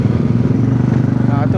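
A motorcycle engine idling close by at a scooter event at a custom motor show, a steady throbbing drone heard alone.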